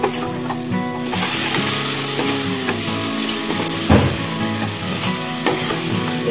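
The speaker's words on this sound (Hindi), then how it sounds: "अब बेसन को अच्छे से भून लेना है और चलाते रहना है" Gram flour (besan) roasts with spices in a pan while a spoon stirs it continuously, giving a steady close sizzle broken by scraping strokes and a few sharp clinks against the pan.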